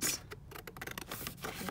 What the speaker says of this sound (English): so just going to cut that out like that.